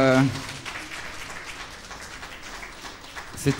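An audience applauds a performing artist with steady, moderately loud clapping that fills the middle, and a voice is heard briefly before and after.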